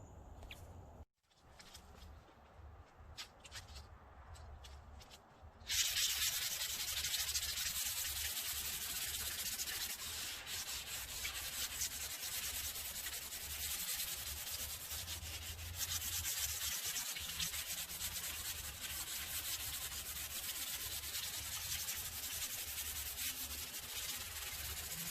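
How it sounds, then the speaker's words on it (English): Light hand sanding of a painted stove top cover between coats: a quiet opening few seconds, then a long, steady, close scratchy rubbing that continues without a break and without any talking. "Now I'm gonna light sand it and put the second coat."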